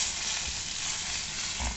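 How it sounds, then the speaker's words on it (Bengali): Onion frying in a pan, a steady close hiss and sizzle with occasional soft stirring scrapes and no talking. "পেঁয়াজটা মোটামুটি একটু ভাজা মতো করে নিতে হবে"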